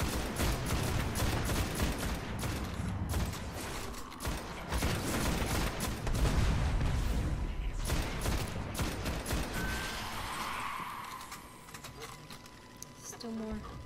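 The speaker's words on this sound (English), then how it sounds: "Someone's trying to shoot at us." Rapid video game gunfire in Destiny on PS3, a dense clattering fusillade of shots that runs steadily for most of the stretch and thins out near the end, with people talking over it.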